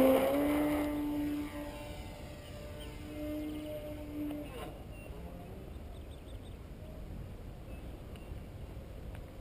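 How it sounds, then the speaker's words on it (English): The electric motor of a 60-inch Skyline Sbach 342 RC model plane, a rewound EMP4260 499kV, whines at an airport, loud and tonal at first, then drops off after a few seconds, leaving a faint hum over outdoor background noise. "Let's see if we can show how the motor is running now."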